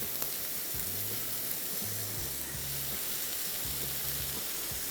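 Paratha filling frying in a pan, a steady broadband sizzle holding at moderate level throughout, with low hum or faint background tones underneath and no speech.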